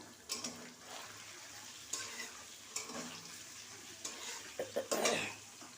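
Pulao being stirred and fried in a pan in a home kitchen, with soft intermittent sizzling and scraping strokes of a utensil against the pan, close and moderately quiet with a few sharper clinks near the end.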